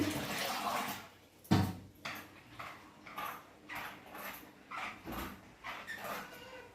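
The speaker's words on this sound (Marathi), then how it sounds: "मी 2 पाण्याने ही डाळ छान धुवून घेतली" Dal being rubbed and rinsed by hand in water during puran preparation, with repeated sloshing and swishing bursts at an uneven rhythm, close and moderately loud, and no talking.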